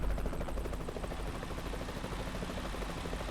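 In American Truck Simulator, a helicopter sits on a hospital helipad, its rotor beating in a steady rapid chop over a dense engine rumble, loud and continuous with no voices.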